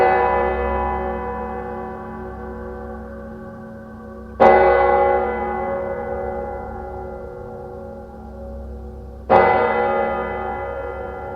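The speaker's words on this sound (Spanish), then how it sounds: "María Josefina despertó por las campanadas de la iglesia, que llamaba a todos sus fieles" A church bell tolls slowly, each loud strike ringing out and decaying with a long humming resonance before the next, three strokes spaced about five seconds apart.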